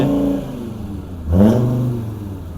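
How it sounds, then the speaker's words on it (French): A close Mercedes C250 Turbodiesel engine with a truck turbo idles, then briefly revs with a rising whir as the turbo spools up, and settles back down. "Attends, le turbo, comment on entend."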